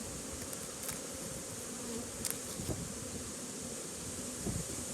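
Agitated honeybees hum in a continuous, fairly faint drone during a hive inspection, with occasional louder buzzes as individual bees fly close past.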